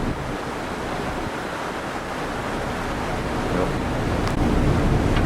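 Open-sea waves rush and churn steadily around a cruise ship in the waters off Chile, with a constant broad wash mixed with gusting wind noise and no pauses.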